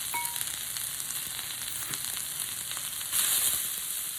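Onion sizzling steadily in a hot pan on a home stove, a soft continuous crackle at even loudness with a brief louder swell near the end and no talking.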